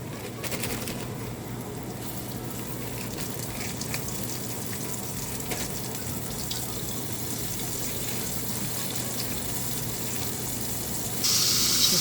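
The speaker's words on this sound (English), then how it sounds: "To my hot frying pan with oil." Snook fish frying in a hot pan of oil, a steady broadband sizzle that holds evenly close up for the whole stretch, growing slightly louder near the end.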